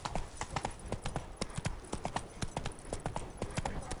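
The horse Roach gallops in The Witcher 3: Blood and Wine, rapid rhythmic hoofbeats on ground, steady and close throughout, with no talk.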